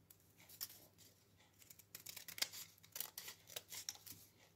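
Scissors snip paper for a scrapbook page in a run of short, crisp cuts, close and quiet, coming in irregular bursts over a faint hum.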